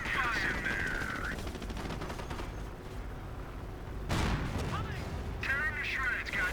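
Gunfire from the World War II strategy game Company of Heroes: dense rattling bursts of rifle and machine-gun fire with booming impacts, continuing throughout under shouted voice lines from game units.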